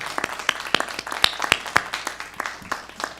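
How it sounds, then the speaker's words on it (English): An audience at a candidate forum gives a short round of applause, with scattered, distinct claps from a modest crowd that thin out over a few seconds. "Round of applause,"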